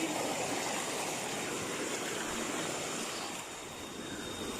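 A shallow river being waded across on foot, a steady broad rush of flowing water, fairly faint and continuous with no voices.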